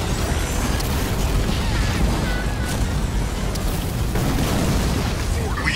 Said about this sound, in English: We've demolished their building.